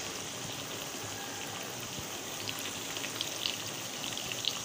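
Eggplant fries desi style in hot oil, giving a steady, close, even sizzle like soft rain. Faint crackles rise now and then, and no one talks.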